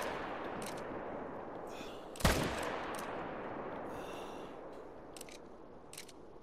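A single rifle shot rings out in a video game reindeer hunt, one sharp crack with a short tail over steady outdoor ambience.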